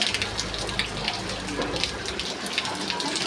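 A steady midday downpour hisses and splashes nearby, dense drops drumming evenly on surfaces with a slightly watery, gushing texture.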